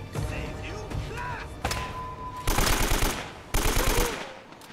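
AK rifle gunfire in Uncharted: Drake's Fortune, a few short bursts of rapid automatic shots, loud and punchy, with game sounds and a faint voice in between.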